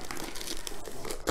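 Quiet crinkling of a plastic bag as it is handled and pulled open, with a sharper rustle near the end.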